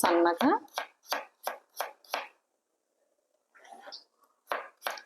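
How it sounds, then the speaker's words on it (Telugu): A large raw potato is chopped on a board with a quick series of about ten crisp knife strokes, in two bursts separated by a pause, with a brief voice at the start. "ఒక పెద్ద సైజు బంగాళదుంప అన్నమాట, దీన్ని కట్ చేసుకొని"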